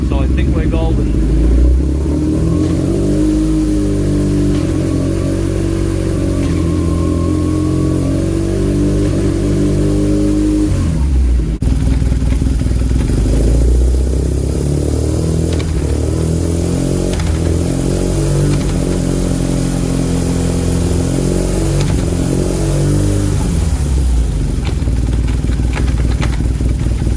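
A BMW R nineT motorcycle engine revs loud and close through repeated upshifts as a quickshifter cuts the ignition, with pitch climbing then dropping sharply at each shift and a short break near the middle.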